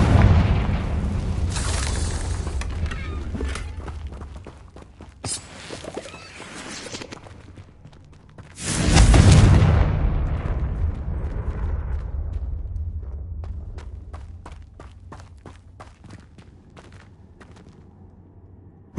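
Confringo blasting spells explode in the Hogwarts Legacy video game: a run of heavy booms and crackling bursts, then one big, loud blast midway with a long rumbling tail, followed by scattered sharp pops fading out.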